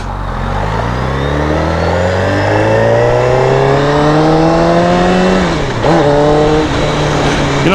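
Motorcycle ridden on a cool, crisp evening, engine pitch rising steadily through a long acceleration, then a brief dip as it shifts and pulls on, loud and close throughout.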